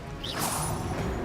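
A spell cast in Hogwarts Legacy, heard as a short whooshing magical burst that rises into a bright crash and then settles into a low rumble, lasting barely a second.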